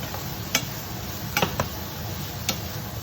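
Carrots and onions brown in a pan with a steady low sizzle, broken by a few sharp clicks and scrapes of stirring.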